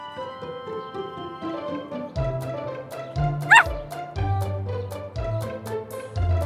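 A cartoon puppy in a children's animated show about helper cars and a crane truck building a house gives yipping barks and a high whimper over bright background music, several short calls spread through the passage.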